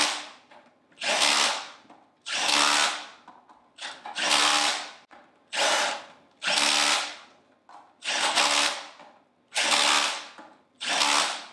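A power tool drives bolts on the diaphragm cover of a Hypro D50 sprayer pump in eight evenly spaced whirring bursts, each rising and cutting off, loud and close with silent gaps between.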